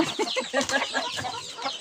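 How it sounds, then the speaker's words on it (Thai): Several chickens squabble at close range, a steady run of agitated clucks and squawks overlapping one another with no pauses, and no other sound stands out. "คนบ่เถียงกันแต่ว่าไก่เถียงกัน"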